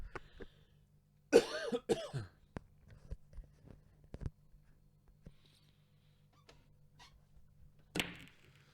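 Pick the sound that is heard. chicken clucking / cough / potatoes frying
cough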